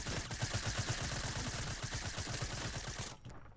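Rapid SMG fire in Fortnite, a steady stream of close, loud shots in a fast even rhythm that cuts off abruptly near the end.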